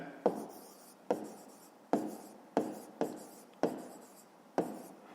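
A pen writes an answer to a fifth-grade math exercise on paper, with about seven distinct scratchy strokes that each start sharply and fade, close and quiet in a silent room.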